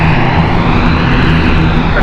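Fixed-wing airliner taxiing out at London City Airport, a steady, loud engine drone with a low rumble, continuous and unchanging throughout with no voices.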